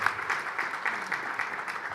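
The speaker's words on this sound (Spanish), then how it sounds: "Quiero pedir un fuerte aplauso a todos los panelistas, por favor." An audience at an energy investment forum in Guatemala claps for the panelists, a short stretch of moderate, fairly distant applause.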